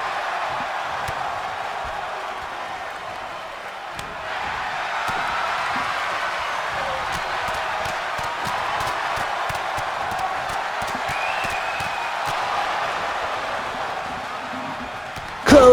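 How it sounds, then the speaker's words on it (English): Crowd at the Debutante Brawl 3 wrestling event cheering and applauding steadily in a loud arena wash, with scattered slams and claps throughout and a commentator talking over it. "The crowd are loud and proud to be here at the Debutante Brawl 3"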